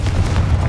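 A Confringo fire-blast spell detonates in the game Hogwarts Legacy, a loud, deep booming explosion with a heavy low rumble filling the whole short burst.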